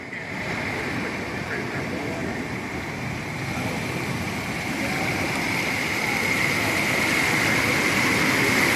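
Steady roaring surf with a constant wash of big waves breaking on a beach, growing slightly louder toward the end, and no clear speech.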